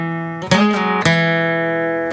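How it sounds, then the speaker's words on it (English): The fourth and third guitar strings sound together, with a couple of sharp plucked or hammered attacks in quick succession, then a sustained ringing tone, close and clear with no talk. "you're playing these two strings here, basically, which are your fourth and third string together"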